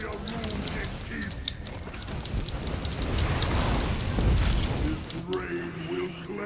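Steady rain falls in a video game, a dense wash of noise across the whole clip, swelling a little toward the middle and thinning near the end as voices and game sounds come in over it.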